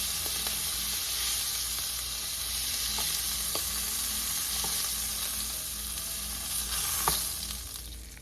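Seared beef chunks for a braised beef mechado sizzle steadily in a hot pan, a dense continuous frying hiss with a few faint clicks of pieces being moved and transferred, close and fairly loud throughout.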